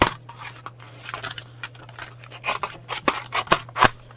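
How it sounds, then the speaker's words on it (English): Scissors snip through material for a purse-shaped gift card holder, a close series of crisp cuts that start sparse and grow quicker and louder toward the end, with a low steady hum beneath and no talking. "I'm actually going to just go down and cut this piece off"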